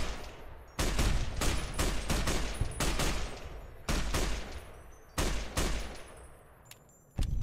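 Rifle gunfire in Fallout: New Vegas, a string of loud sharp shots, some in quick bursts and others spaced apart, each followed by a short echoing tail, with no talking.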